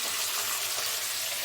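Pomfret fish fry in a wok, producing a dense, even, close sizzle that holds steady throughout without any talking.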